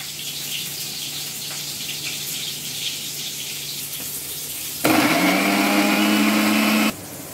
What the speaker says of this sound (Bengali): এগুলো আমরা মিক্সিতে ভালো করে বেটে নেব।